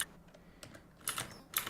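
Quick keystrokes on a computer keyboard in a quiet room, a few soft clicks followed by two short bursts of faster, sharper taps.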